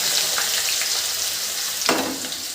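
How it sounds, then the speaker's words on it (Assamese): Ginger, garlic and green chili sizzle in hot oil in a kadai, a close, steady crackling hiss with a brief louder burst near the end. "ধুনীয়াকৈ কেৰাহীত তেল দিছোঁ, এতিয়া আদা নহৰু দিম। আদা নহৰু দিছোঁ, জলকীয়া দিছোঁ,"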